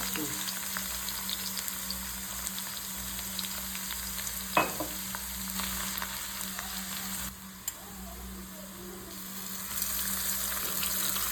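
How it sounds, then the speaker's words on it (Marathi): River fish sizzle in hot oil with plenty of garlic in a home kitchen, a steady, fairly soft frying hiss running throughout with a few faint clicks and knocks. "हे मासे आहेत तर तेलामध्ये टाकलं एकदम हलक्या हाताने मिक्स करायचं"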